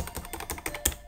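Rapid keystrokes clatter on an Amstrad CPC computer keyboard, a short, close burst of about a dozen clicky taps in quick, uneven rhythm.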